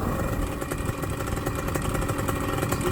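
A BlackHawk Titan 210 paramotor engine, still being broken in, runs with a steady rapid throb, held at a fairly even throttle throughout and sounding close.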